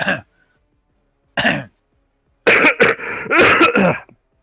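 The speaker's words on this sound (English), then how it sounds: "That was an out-of-character cough." A player at a tabletop role-playing game session gives a few harsh, close coughs and throat clearings in separate bursts, the last ones clustered together, with no speech.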